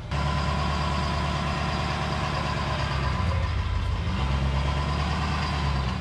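A truck in four-wheel drive idles nearby, making a steady low rumbling engine drone with a faint shift in pitch partway through; there is no speech.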